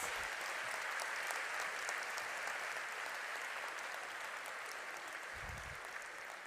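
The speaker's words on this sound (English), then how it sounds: "Ladies and gentlemen, please give a big round of applause for all our gold medalists." Sustained applause from a graduation ceremony crowd honoring gold medalists, dense and even clapping that continues steadily throughout without a break.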